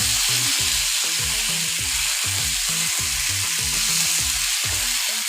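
Papaya and potato pieces sizzle loudly in a pan of spiced oil after water is added, a dense, steady hiss of frying with soft stirring clicks throughout and no talking.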